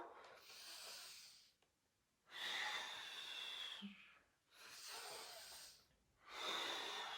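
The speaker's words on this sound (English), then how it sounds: "Exhale. Inhale. Exhale. Inhale. Exhale." Slow, deliberate breaths in and out during a home yoga class, four long close-miked airy exhales and inhales separated by short quiet pauses.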